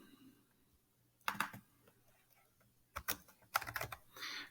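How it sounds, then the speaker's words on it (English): Quick bursts of fast typing on a computer keyboard, clustered key clicks in short flurries separated by pauses, close and fairly quiet against a faint background hum. "I was typing fast up here"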